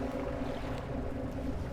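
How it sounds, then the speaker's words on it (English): Boat in a fishing video game, a steady low droning hum with tonal engine-like bands, fairly quiet and continuous throughout, with no talking. "Yeah, that didn't sound like a real boat."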